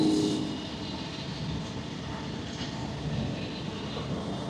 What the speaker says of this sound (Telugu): అదిగో చూడండి ట్రైన్ వెళ్తుంది పక్కనే,